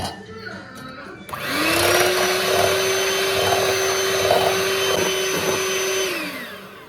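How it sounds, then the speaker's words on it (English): An electric mixer starts up and whines steadily at high speed while beating egg whites until fluffy for a tres leches cake, a loud close motor hum that winds down at the end. "now we are going to beat the white egg until it's fluffy"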